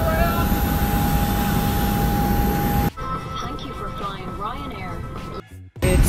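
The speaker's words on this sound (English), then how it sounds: "we're boarding now while we're getting on the plane" Jet engines whine and roar loudly around an airliner as passengers board, a steady drone that drops to a muffled hum when the scene shifts, with voices talking over it.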